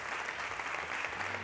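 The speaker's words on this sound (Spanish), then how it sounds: "Un aplauso, por favor." Sustained audience applause fills a conference hall at a gastronomy summit, a steady dense wash of clapping from a large crowd at moderate level, with no talking over it.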